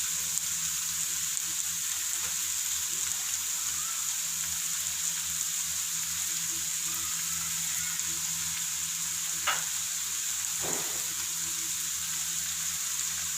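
Bitter gourds stuffed with lentils fry in a pan, giving a steady, loud sizzle with a hissing crackle that holds throughout, broken by a couple of brief sharper pops or stirs near the end; no one speaks.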